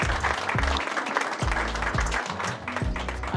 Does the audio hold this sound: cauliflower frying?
no